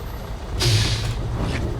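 A coach bus in OMSI 2 pulls to the roadside, and its air brake lets out one short hissing release over a steady engine idle.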